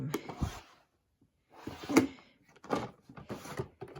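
A drawer in a set of craft room storage drawers slides open and shut, giving several separate wooden rolling scrapes and soft knocks at close range, with no talking.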